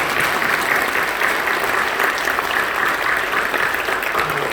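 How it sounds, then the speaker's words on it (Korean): A church congregation applauds during a New Year's Eve worship service in Incheon, dense and loud continuous clapping from a large crowd that holds at an even level throughout. "우리 박수를 격려해 주시고"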